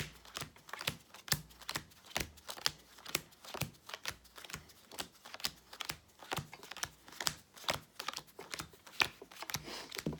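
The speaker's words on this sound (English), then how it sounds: "So now I'm gonna deal the cards out again" Playing cards dealt out one after another onto piles during a card trick, a quick, steady run of soft close flicks and slaps, with no voices.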